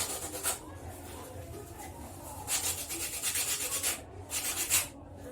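Sandpaper scrubbed over the insole of a handmade children's slipper, heard as two bursts of harsh, close rasping strokes, each lasting about a second, over a quieter rough background.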